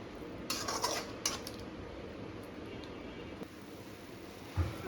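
Ground tomato mixture thinned with water being stirred in a pan, with a leftover idli dish in progress: a few clinks and scrapes of a utensil against the pan early on, then a quieter steady background with a final clank.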